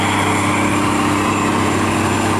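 An iron riverboat engine roars at full throttle while pushing upstream through a culvert, a loud, dense, unbroken drone with a steady propeller hum and no pauses.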